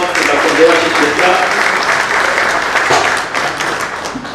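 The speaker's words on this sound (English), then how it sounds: "A big round of applause to Dr. Devashish Mitra." Audience at a seminar on audit trails gives sustained applause, dense clapping from a large room, close and loud, easing slightly toward the end.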